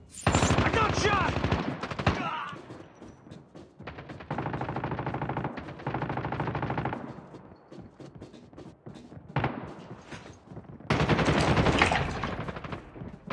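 Call of Duty gameplay on the Oil Spill map with a Chicom weapon, where close, loud bursts of automatic gunfire rattle in several separate volleys with short gaps between them.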